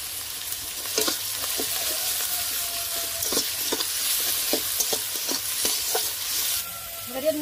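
Ginger garlic paste fries in a pan with a steady, close hiss of sizzling while a spoon scrapes and stirs in repeated short strokes, with no talking.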